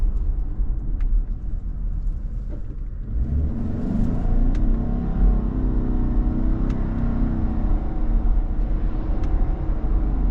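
A 2025 Subaru Outback Wilderness turbo engine pulls through simulated gear shifts, a steady low rumble heard from inside the cabin that swells as the car accelerates, with no talking.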